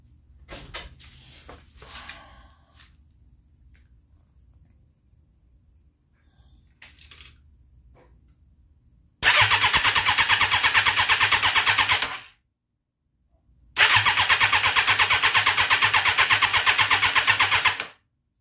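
After a few faint clicks and quiet handling, a 1998 Suzuki 750cc motorcycle engine cranks loudly in two long bursts of harsh whirring, separated by a short silence, without starting.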